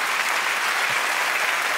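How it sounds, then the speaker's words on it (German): Steady, dense applause from a comedy show audience at a 3sat festival in Mainz, filling the room evenly and continuously without any speech over it. "für diesen frenetischen Applaus."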